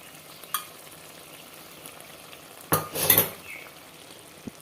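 Beaten yogurt mixed into chicken curry in a pot: mostly quiet low simmer, then a brief burst of loud scraping and clattering from a spoon against the pot, with a couple of faint clinks.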